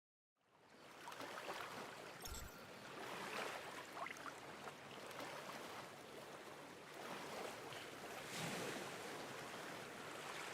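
In the video game Once Human a character swims through water, producing a continuous rushing, sloshing wash with faint splashing surges. The sound stays moderately quiet and steady throughout, and no one speaks.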